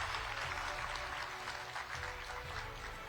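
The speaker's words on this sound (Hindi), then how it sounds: "जोरदार तालियां हो यहां पर" An audience at a televised conference session applauds its first guest, a steady, distant, fairly faint wash of many hands clapping with no speech.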